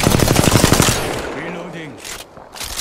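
Rapid bursts of automatic gunfire in a shooter video game, dense and loud at first, then thinning into scattered distant shots with a brief voice between.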